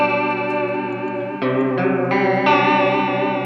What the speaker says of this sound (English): once you added in the third voice of the tri-chorus, it just got too washy. There's too much modulation going on there